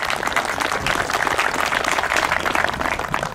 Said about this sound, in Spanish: Y un aplauso para todos ustedes,